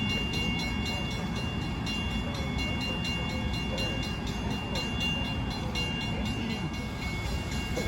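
Long Island Rail Road train 2350 from New York to Farmingdale stops at New Hyde Park, a continuous low rumble of the train running and idling nearby in evening rush hour, steady and unbroken throughout.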